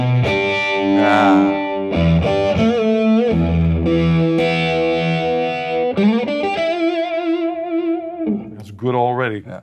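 Electric guitar played through a vibe pedal, with a swirling, warbling modulated tone across sustained notes and chords, loud and close throughout.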